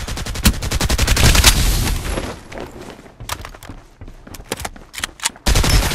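Rapid bursts of gunfire in the Farlight 84 battle game crack out close and loud, dense volleys at first, then scattered shots and thuds before another heavy burst at the end.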